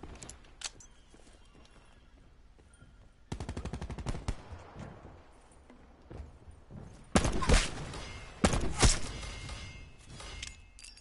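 Automatic gunfire in the Black Ops 4 video game, with sparse isolated shots early, then dense sustained bursts and sharp loud cracks later, rising in intensity.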